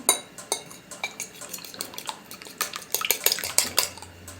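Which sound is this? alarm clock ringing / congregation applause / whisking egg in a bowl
whisking egg in a bowl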